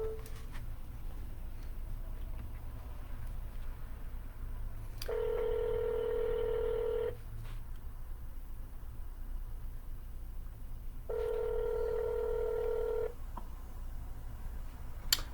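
Telephone keypad tones sound as a number is dialed to call someone back, two separate bursts of evenly spaced beeps, each about two seconds long, over faint steady line hiss.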